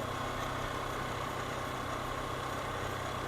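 A motorcycle engine idles steadily in a low, even rumble, fairly faint and unchanging throughout, with no one speaking.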